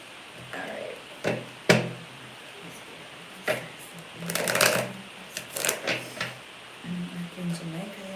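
Tarot cards being shuffled by hand indoors, a series of soft riffling bursts and light taps with pauses between, fairly close and quiet, with faint background sounds.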